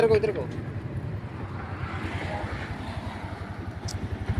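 Motorcycle riding along a clean road, its engine droning steadily with a rhythmic low pulse as gears change, heard close with a passing rumble of wind while someone talks intermittently.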